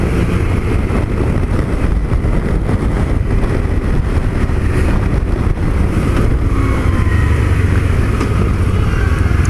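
Heavier motorcycle on the road, a loud, constant engine drone and wind roar throughout, close and continuous with no speech.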